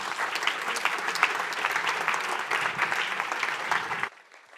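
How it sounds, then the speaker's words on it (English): Applause from the audience at a cybersecurity tech meetup, a steady crowd of clapping hands filling the room for about four seconds before cutting off abruptly into near silence. "Round of applause."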